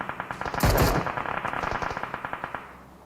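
Rapid bursts of automatic gunfire in the mobile battle royale game PUBG Mobile during a tournament match, with a louder blast early on followed by a steady string of close, sharp shots that tails off.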